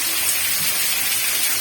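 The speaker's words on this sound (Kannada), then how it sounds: "ನೋಡ್ರಿ ಮಳೆ ಬರಕತೈತಿ." Steady rain pouring down in a village, a dense continuous hiss of drops on surfaces, close and fairly loud with no voices.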